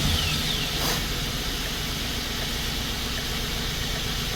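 A car engine with a dead ignition coil and worn spark plugs, a steady close idle rumble with no clear start, running evenly for the whole few seconds.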